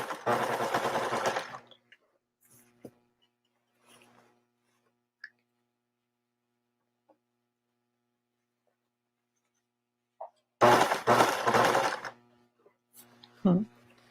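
A sewing machine stitching thick men's shirt fabric runs in two short, loud, rapid bursts separated by a long quiet gap with faint clicks, and a voice talks briefly near the end.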